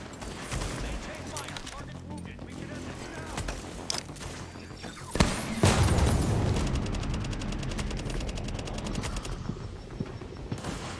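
Enemy shotgun blasts and dense gunfire from Tom Clancy's The Division, loud and continuous, with a heavy blast midway and sustained rapid shots to the end over a busy game soundscape.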